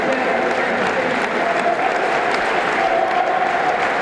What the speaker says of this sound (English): Even the guys from Cambridge are over there clapping it.